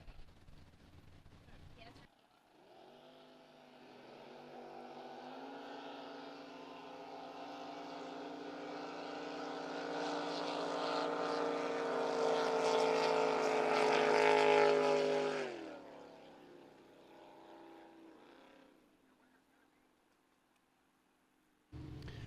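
Drag racing boat at a San Angelo race, its engine roaring as it runs down the lane, rising to a loud, high-pitched peak around mid-run before cutting off sharply and fading to near silence.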